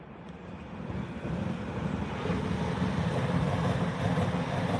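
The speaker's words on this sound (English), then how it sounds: "And here comes a Pendolino." A Pendolino train passes on the rail line, a broad rushing roar that builds steadily and stays loud and sustained, heard alone without talk.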